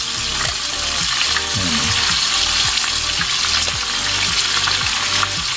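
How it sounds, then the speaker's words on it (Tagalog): Milkfish (bangus) frying in oil in a large pan, a loud continuous sizzle with crackling and popping close up, with occasional scraping clicks from the pan. "Prituin muna natin."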